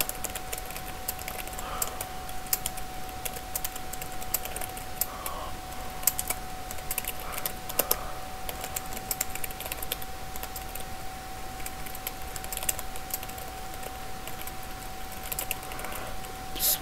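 Typing on a computer keyboard while coding, light irregular clicks and taps running steadily at moderate distance over a faint constant hum.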